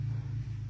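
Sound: four-wheeler driving up

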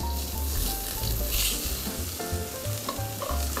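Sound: chopped onion and carrot stir-fried over medium heat

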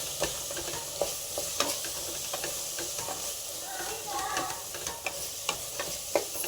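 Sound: frying and stirring masala for egg pulao

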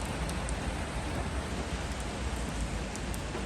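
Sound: cold rain falling on the street

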